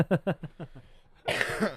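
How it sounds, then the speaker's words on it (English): A short run of rhythmic coughs, close and fairly loud, then a longer burst of harsher noise like a deep cough or throat sound. "I'm kind of working on like a residual cough thing"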